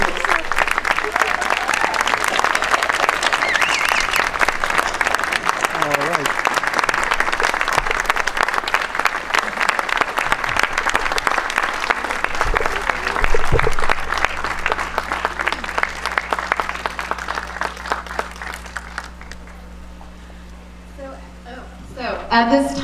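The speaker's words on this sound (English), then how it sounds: "please let's have a round of applause for these 2 wonderful individuals" Sustained round of applause from a gala audience, dense and loud for most of its length with crowd murmur mixed in, then tapering off near the end as a voice comes in over the fading claps.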